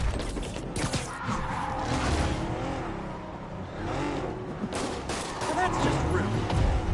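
Gunshots ring out on a crowded Times Square street in the Spider-Man video game, mixed with engine noise and game sounds, continuous through the clip, with a voice talking over it.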